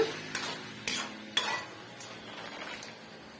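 Peanuts and roasted gram being fried in oil for spicy masala puffed rice, with a soft sizzle under scattered sharp scrapes and clinks of a spoon stirring against the pan.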